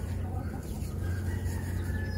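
A chicken clucks and squawks close by, kept outdoors during an arctic cold snap, a steady stream of fowl calls over low background rumble.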